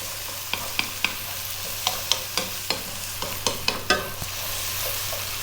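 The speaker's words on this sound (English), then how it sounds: "we're going to go for 2 more minutes, stirring pretty much all the time. We're on a very high heat," Celery stir-fried over maximum heat, with a steady sizzle and repeated sharp scrapes and taps of a utensil stirring in the pan, close and without talk.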